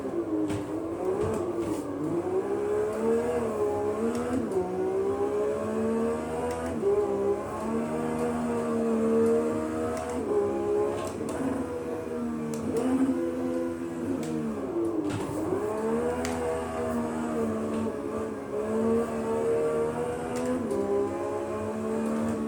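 A race car in the Automobilista 2 sim holds a loud, continuous engine note that climbs and dips repeatedly as it accelerates through corners and shifts gears, steady throughout with no talking.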